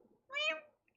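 A human voice imitates a cat with a single drawn-out, high-pitched meow, clear and close, with a quieter murmur just before it.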